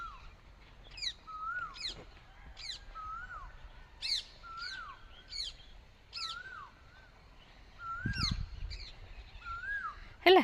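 Repeated loud, sharp parrot calls ring out one after another over quiet fields, harsh screeching notes spaced a second or so apart, with a low thump near the end.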